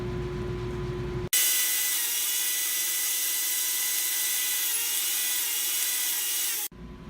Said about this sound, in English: We're gonna make dado cuts to put our bottom in now.